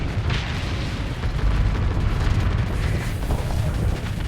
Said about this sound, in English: This is beautiful though, there's so many explosions.